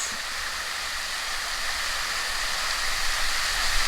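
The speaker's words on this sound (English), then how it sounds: "the most heavenly waterfall that I've ever seen" A waterfall in Cebu, Philippines roars in a steady, dense hiss of falling water, loud and close with no voices or breaks.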